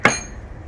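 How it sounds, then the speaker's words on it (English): A 10-pound sledgehammer set down, one sharp metallic knock with a short ringing decay, close and loud, then near silence. "10-pound sledgehammer."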